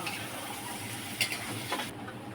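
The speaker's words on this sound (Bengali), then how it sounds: "এবার নাড়িয়ে মিশিয়ে নিতে হবে।" Spatula stirring mixed fried rice with garam masala, ginger and garlic in a pan: a steady soft scraping and sizzling texture with a couple of brief louder scrapes, no talking.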